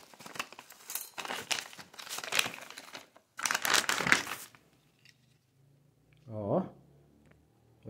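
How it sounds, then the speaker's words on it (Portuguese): Crinkly plastic packaging around a dog dental chew is torn and crumpled open in several loud, close bursts separated by short pauses, with a brief voice near the end. "Vou abrir e já vou dar pra ele."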